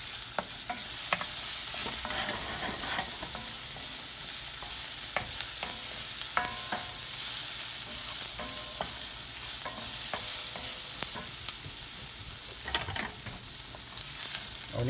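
Shallots sautéing in a pan before risotto go on sizzling steadily and close, with frequent spatula scrapes and small clatters throughout.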